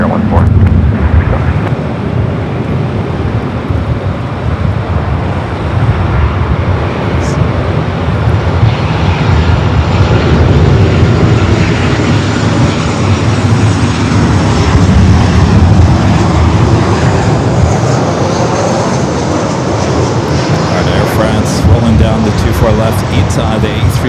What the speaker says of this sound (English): Left ITA, the A350-900 heading back to Rome